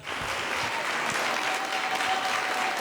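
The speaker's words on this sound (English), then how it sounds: "With a round of applause." Steady applause fills a few seconds as a podcast opens its third season, an even wash of clapping with a faint sustained tone running through it.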